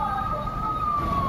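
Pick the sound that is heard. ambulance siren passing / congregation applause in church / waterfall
ambulance siren passing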